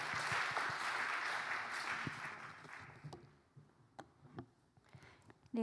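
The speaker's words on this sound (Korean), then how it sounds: "박수로 환영하겠습니다" Applause from a church gathering welcoming a speaker, a moderate wash of clapping that thins out midway, leaving a few scattered claps and small knocks before a brief sound at the end.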